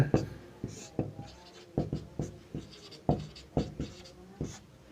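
Chalk or marker strikes a classroom board in quick, irregular taps and short scratches while a teacher explains non-metal density, with speech running beneath the writing.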